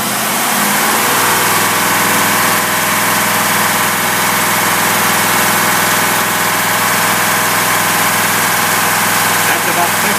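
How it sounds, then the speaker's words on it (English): A boat engine fitted with a Rochester carburetor runs loud and steady, a continuous close-up mechanical roar with a constant hum as it accelerates toward about 50 miles an hour. "Now we're going to do some acceleration. And we're going to take it up to about 50 miles an hour."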